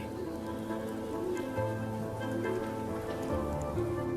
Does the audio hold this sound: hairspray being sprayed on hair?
no